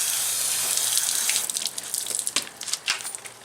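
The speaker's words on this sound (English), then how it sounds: "put some water on it" Water splashing and trickling onto a car headlight before wet sanding with 1000-grit paper, a steady running wash that breaks into uneven drips and splatters in the second half.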